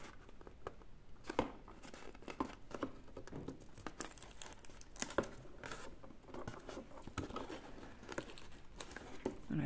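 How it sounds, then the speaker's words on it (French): Sticky tape crinkles and rips in short, close bursts while a children's advent calendar is put together, quiet handling noises in between. "Hop, un coup de scotch."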